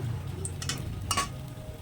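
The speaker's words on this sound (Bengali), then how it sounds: "আর দুটো শুকনো লঙ্কা ফোড়ন দিলাম" Black cumin seeds and two dried red chillies crackle in hot oil with turmeric in a wok. The sizzle is soft and brief, close by, with a couple of light metallic taps.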